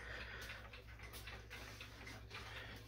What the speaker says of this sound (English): It's a skeleton clock.